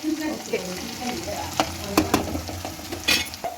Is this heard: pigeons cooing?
no